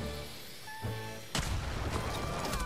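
After a quiet tonal hum, a grenade blast in Rainbow Six Mobile bursts in loudly, followed by a rumbling, crackling aftermath of in-game explosion noise.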